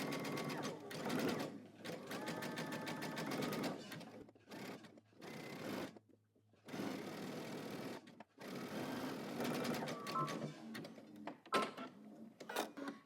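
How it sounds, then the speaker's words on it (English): A home sewing machine runs a wide zigzag stitch that attaches elastic to a seam allowance. Its rapid, close mechanical chatter comes in bursts separated by short pauses. "you're going to go to the sewing machine and you're going to zigzag stitch your elastic onto your seam allowance"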